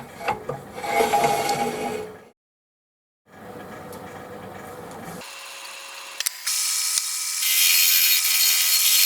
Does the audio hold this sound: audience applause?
no